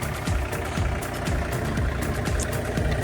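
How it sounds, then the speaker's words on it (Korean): A Hyundai excavator's diesel engine turns over and runs on a snowy day, a steady mid-pitched rumble with repeated low knocking thumps roughly every half second, close and continuous. "온 김에 포크레인은 지금 시동을 걸고 있습니다"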